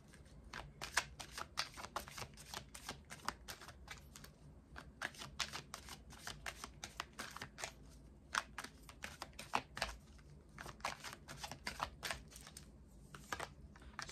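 Tarot advice cards are shuffled continuously up close, a quiet, steady patter of rapid card riffles and slaps running for about fourteen seconds with no talking.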